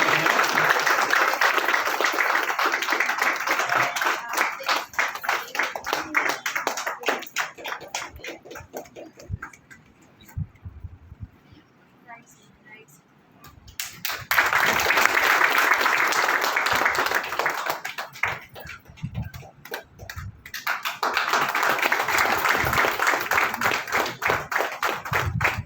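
Traders clapping to honour an Additional Police Commissioner (ACP), a sustained round of applause that fades away midway, then swells loud again twice, dense and close throughout.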